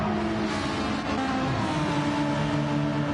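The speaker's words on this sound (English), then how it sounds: "So we hear cars sliding in front of us" Racing cars in a GT racing video game slide and scrub across the track, a steady dense engine drone with tyre noise running continuously and fairly loud throughout.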